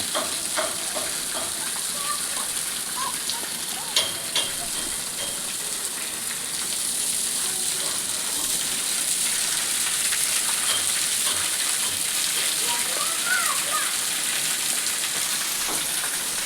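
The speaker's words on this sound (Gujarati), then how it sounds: "જો આ જે છે ને ડેમ ઉપરથી પાણી આવે નીચે." A steady, loud rush of water pouring down over the Droneshwar dam on a river in Gir Gadhada, a continuous hissing roar with no pauses.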